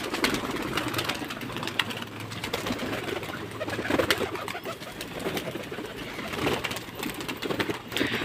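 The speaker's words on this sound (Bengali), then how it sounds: "দেখতে পাচ্ছ পায়রা বার হচ্ছে" Pigeons coo steadily and close by, a continuous low burbling with flutters and faint mechanical hum in the background.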